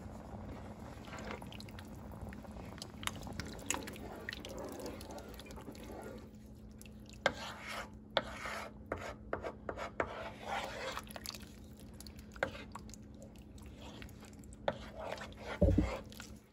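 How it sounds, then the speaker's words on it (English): Beef barley vegetable soup in low-sodium beef broth being stirred in a pot, soft sloshing and scraping with faint liquid sounds and a few light clinks, quiet and close. "Give it a good stir."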